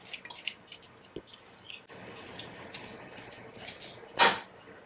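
Kitchen knife scraping and shaving the skin off a thick Korean yam (ma), heard as a close series of short, light scrapes and soft clicks with brief pauses, ending in one louder sharp stroke.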